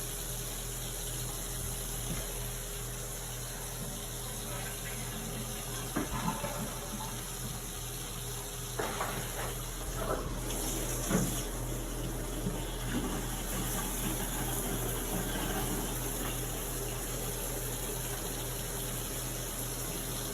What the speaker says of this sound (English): We run as much as possible so that we can get as much water through the waste system to check for leaks.